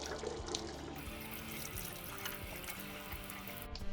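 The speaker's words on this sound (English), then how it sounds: "I'm gonna rinse them in some water." Steady running water splashing and trickling, as from a tap into a sink, continuous and fairly close with no talking, as small pieces fresh from pickle solution are rinsed.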